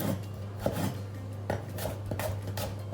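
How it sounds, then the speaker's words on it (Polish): Young spring potatoes being diced on a cutting board, a series of separate knife chops with a steady low hum underneath and no talking. "Kroję je w kostkę."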